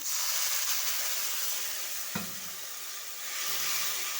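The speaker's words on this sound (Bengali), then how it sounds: "এবার ভালো করে এগুলো কষাতে থাকবো" Turmeric, Kashmiri chili powder and a splash of water sizzling steadily in a pan as a curry masala is sautéed, with a continuous close fry hiss, a single sharp tap of a spoon midway and light stirring scrapes.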